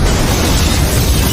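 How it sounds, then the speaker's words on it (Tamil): A car bomb detonates and blasts apart a police station in a film scene, a loud sustained roar of explosion filling the whole moment with rumbling low-end energy and no voices. "கார்ல பாம வச்சு அனுப்பியிருந்தவன் காரை பிளாஸ்ட் பண்ணி போலீஸ் ஸ்டேஷனை வெடிக்க விடுறான்"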